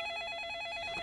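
A telephone rings in a video game, a steady electronic trilling tone held throughout one short burst, clear and close with nothing else over it.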